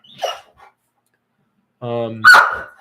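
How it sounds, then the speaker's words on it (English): A dog gives a couple of short barks, then after a pause a longer whining, voiced bark-like sound rises, loud and close in a quiet indoor room. "The horny, entertained dog."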